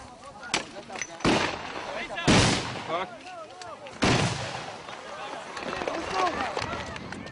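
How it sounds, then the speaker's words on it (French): Soldiers fire tear gas grenades to break up a demonstration in a Palestinian village. Four or five sharp, loud bangs come at irregular intervals over a restless background of shouting and crowd voices. "L'armée décide alors de disperser la manifestation en semant la panique et en lançant des grenades lacrymogènes"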